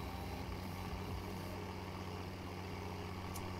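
A tractor engine in the Farming Simulator 17 video game runs at a steady low drone, constant and even throughout, with no talk.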